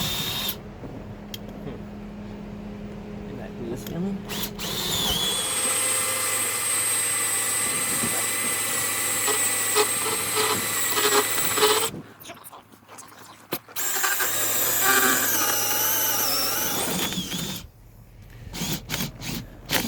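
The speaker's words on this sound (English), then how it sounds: "drill a hole right through this panel all the way into the corner" A power drill bores a hole through a panel on a Malibu wake boat while fitting a rear ballast upgrade. The drill runs as a loud, steady whine for several seconds, stops briefly, then resumes, with someone talking over parts of it.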